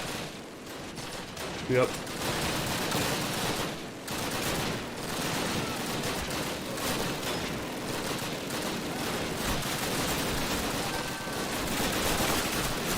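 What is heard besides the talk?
machine gun fire in a video game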